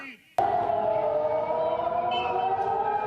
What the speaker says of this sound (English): As air raid sirens sound in Tel Aviv, warning of an incoming Iranian missile strike